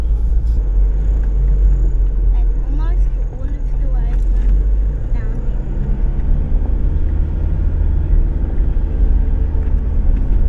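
A four-wheel drive car crawls slowly up a steep 1.7 km outback track on the Gibb River Road, its engine a steady low rumble throughout, with voices talking over it.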